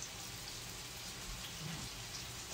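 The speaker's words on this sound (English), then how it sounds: "All right, the pasta water is boiling." Pasta water boils in a pot, giving a steady, dense hiss and bubbling that stays constant and fairly faint throughout, with no voices.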